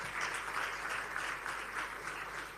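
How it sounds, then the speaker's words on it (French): An audience applauds panelists at an agricultural youth entrepreneurship event, dense continuous clapping that swells in gentle waves and stays fairly distant. "Prière d'acclamer encore très fort pour ces deux panélistes."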